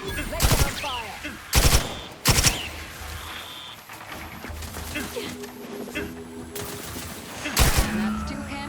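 Gunfire in The Outer Worlds 2: loud bursts of rapid automatic shots come in separate volleys, with a machine-like hum and a game voice speaking between them.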